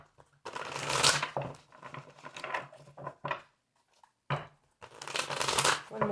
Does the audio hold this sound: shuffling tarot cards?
yes